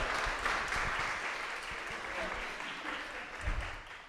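A large audience claps and applauds warmly to welcome two speakers at a conversation event, a dense, sustained wash of clapping that stays steady throughout, with a slight swell near the end.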